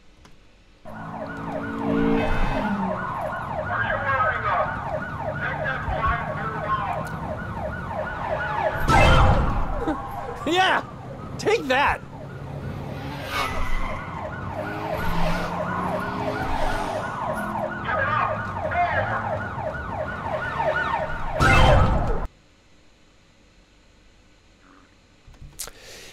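A police car siren in an audio-based racing game wails in a steady, loud, rising-and-falling loop over engine rumble, with a couple of sharp crash hits and a voice shouting briefly before it cuts off.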